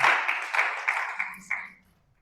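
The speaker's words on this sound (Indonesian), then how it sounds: "Berikan tepuk tangan bagi Allah kita." A church congregation claps together in rhythmic bursts that ring out in a reverberant hall and fade away after about six beats, leaving near silence.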